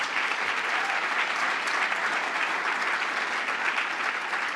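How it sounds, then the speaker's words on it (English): Sustained applause from the audience at the Hult Prize finals and awards ceremony, a thick, even sheet of clapping from many hands lasting several seconds. "Round of applause."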